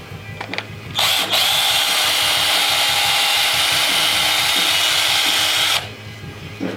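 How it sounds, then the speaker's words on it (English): A power drill twist-reams a hole with its bit, a loud, steady whirring burst of about five seconds between quieter handling sounds. "Bring them out with that twisting technique until the small bit is making a hole as big as the outside hole."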